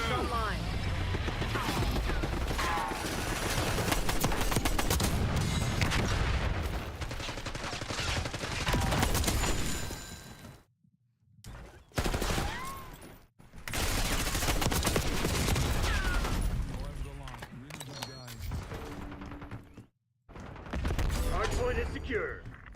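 Sustained turret machine gun fire in Black Ops 6, dense loud bursts with a couple of short pauses, mixed with game voice callouts and other battle noise.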